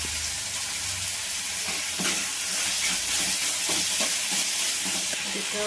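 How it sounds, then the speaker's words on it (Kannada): Onion and tomato frying in a pan for samosa filling, a steady close sizzle and hiss with occasional scraping stirs throughout. "ಈಗ ಇದನ್ನು ಫ್ರೈ ಹಾಕ್ತೀನಿ"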